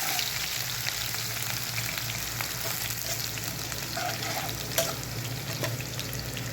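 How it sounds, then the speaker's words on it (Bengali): Garlic sizzling in hot oil in a pan while being stirred, a dense continuous frying hiss with occasional scrapes and a brief clatter near the end, close by, no voices. "রসুন দিয়ে একটু নাড়াচাড়া দিলাম।"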